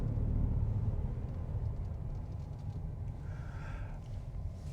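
Toyota Yaris ZR Hybrid, a front-wheel-drive hatchback, pulling away: a low, steady rumble from the car, close and continuous, with a faint brief whine near the end and no talking.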